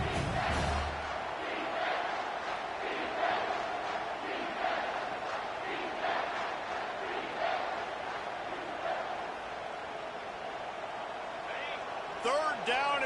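Stadium crowd at a college football game between Missouri and South Carolina roars on a third down, a sustained loud wall of cheering and yelling that holds steady throughout with a few brief sharper bursts near the end.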